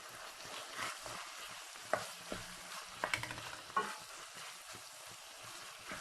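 Onion being stirred into dum-style keema in a pot, with a steady low sizzle broken by several scraping clicks of the spoon and a cluster of knocks near the middle, no voices.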